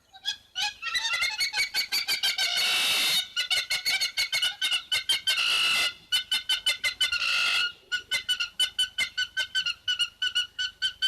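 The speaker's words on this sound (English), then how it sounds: "that slight like cheeping sound of the hammerkops" Hammerkops call during a mating display at a waterhole, a loud, close series of rapid, high cheeping notes that swell into long chattering runs, pause, then resume as quick pulsed peeps, with no talking.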